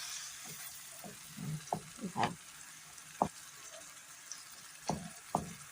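Ampalaya leaves and eggs are stirred in a frying pan, with soft scraping strokes and occasional louder clacks over a quiet, steady sizzle.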